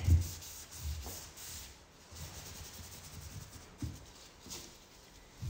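Clear wax is wiped over a furniture item, then pulled back off with a bag, giving soft, close rubbing and scuffing strokes in an uneven rhythm with no talk.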